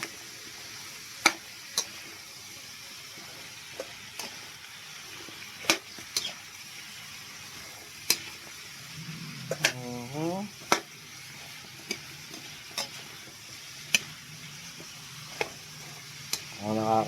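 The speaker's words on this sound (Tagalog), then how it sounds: "Haluin lang natin yan" Food is stirred in a hot pan: a low, steady sizzle with sharp utensil clicks and scrapes at irregular intervals, and a voice briefly heard.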